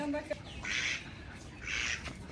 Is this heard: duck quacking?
yes